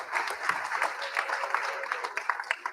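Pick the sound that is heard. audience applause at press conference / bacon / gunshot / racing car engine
audience applause at press conference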